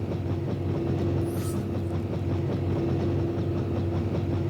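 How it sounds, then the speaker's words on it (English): A video game power generator in Disney Infinity 3.0 gives a steady low electrical hum with a constant drone and faint mechanical rumble, continuous and unchanging throughout. "So that's the power generator."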